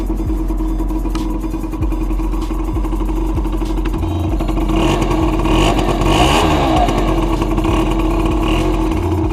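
An MBK Booster One scooter engine starts and idles close by with a steady rhythmic putter, rising briefly in pitch midway before settling, no talking.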